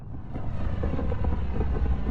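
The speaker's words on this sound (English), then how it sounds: "Descent engine engaged" A spacecraft's descent engine engaging in the game Mass Effect Andromeda: a steady, loud low roar with broad rumbling noise that swells slightly in the opening moments and then holds without a break.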